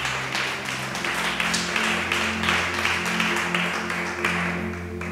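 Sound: congregation applause

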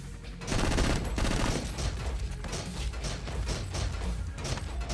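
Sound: gunfire in video game MADNESS: Project Nexus

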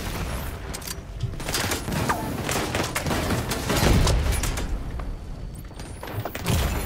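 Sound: enemy turrets firing, from the video game The Division 2

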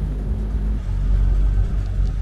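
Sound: boat engine running

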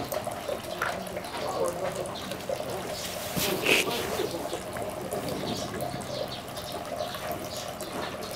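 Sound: water ladled from a dipper at a shrine purification basin

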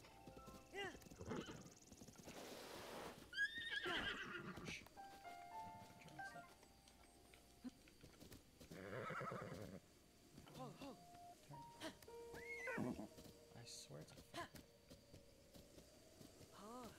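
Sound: horse neighing and hooves in a video game

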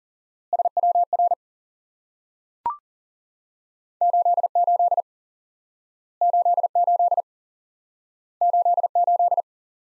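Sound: Morse code CW tones, single element repeated

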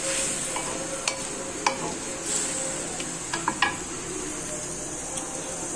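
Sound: fish and potatoes sizzling and being stirred in a pan

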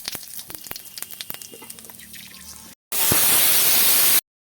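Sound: potatoes frying, then whole spices added to hot oil

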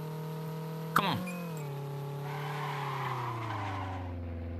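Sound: car drifting with tires squealing

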